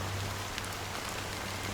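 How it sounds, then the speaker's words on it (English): Steady rain falls in the Honkai: Star Rail video game, a soft, even hiss of drops on surfaces with a low constant hum beneath, continuous and unbroken with no voices. "it's still raining"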